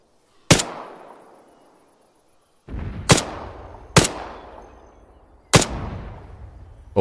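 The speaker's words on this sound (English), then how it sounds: "But the mortars are coming in." Mortar fire in the Arma 3 video game: four sharp, loud blasts at irregular intervals, each with a long rumbling decay tail, with no talk.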